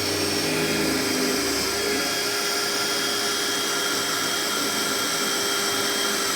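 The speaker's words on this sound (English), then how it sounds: "we're ready to drill some holes" A loud, steady whine of a power drill runs continuously, close up, with a constant high-pitched motor hum and no pauses.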